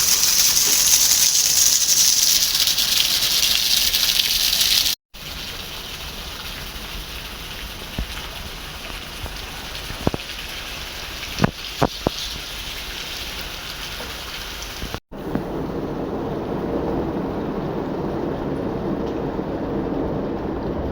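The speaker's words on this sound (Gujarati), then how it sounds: "અહીંયા વરસાદ આવી રહ્યો છે મિત્રો" Rain pouring outdoors during a daytime downpour, a continuous dense hiss of drops on surfaces with a few sharper taps and a brief break, steady and fairly close throughout.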